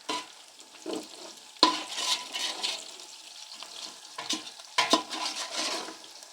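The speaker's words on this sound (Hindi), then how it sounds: "इसको आपने मुसलसल आपने इसको चम्मच चलाते रहना है" Meat frying in a pot for Kabuli pulao while a spoon stirs it constantly, giving bursts of wet sizzling and scraping that rise and fall in uneven waves, close up with no voices.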